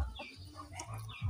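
A chicken clucks in a few short, soft calls, heard faintly in a home kitchen setting with light background noise.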